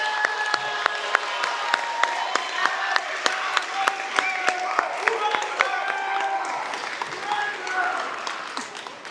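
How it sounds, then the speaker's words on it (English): A high school graduation audience gives a sustained round of applause, a steady bed of many hands clapping with distinct louder individual claps standing out, and voices mingling underneath. "So give our kids a round of applause,"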